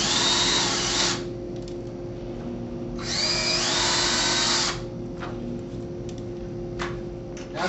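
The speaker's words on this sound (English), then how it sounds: "we can pre-drill our holes." Power drill pre-drilling screw holes for a window hinge, two high whining bursts of about a second each with a steady motor hum and light clicks between, close and loud.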